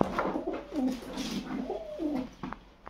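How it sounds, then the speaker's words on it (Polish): Breeding pigeons, a broad-chested show variety, give several soft, close-up cooing calls in quick succession, rising and falling throaty notes with a small flutter near the end. "To są takie piersiate gołębie."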